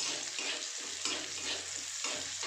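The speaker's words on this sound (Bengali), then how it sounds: "দাঁড়াও আগে রসুনটা ভাজা হতে দেখো।" Chopped garlic fries in hot oil with a steady, close sizzle, broken every half second or so by a spoon stirring through the pan.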